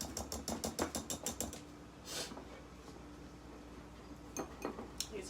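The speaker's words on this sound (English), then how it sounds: "He's blending his dry ingredients now." Dry ingredients, all-purpose flour and baking powder, being whisked together in a small bowl, giving a quick run of light metallic clinks and scrapes that pause briefly and then return in a few closer taps.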